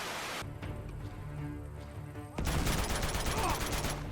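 Sustained gunfire from the video game Uncharted, a dense crackling fusillade that swells louder after a brief lull, with game music and effects layered throughout.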